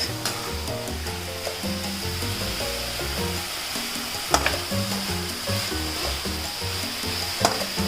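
Macaroni fries in oil in a pan with capsicum, mushrooms and onions, making a steady close sizzle with a few sharp clinks as it is stirred, and background music running under the sound.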